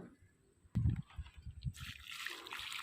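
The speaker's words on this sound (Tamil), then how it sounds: "கொஞ்சம் தண்ணியும் எடுத்து அதுக்கு விட்டேன்" Water is poured onto a chilli plant in a home garden, a short, close, soft trickle and splash that rises suddenly and continues briefly with a hissy spray, without speech.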